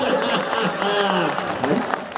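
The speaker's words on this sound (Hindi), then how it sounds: "अभी तालियां कमजोर है आपकी" Audience applause at a live Hindi poetry recital, sustained clapping mixed with crowd noise and overlapping voices, fairly loud and close.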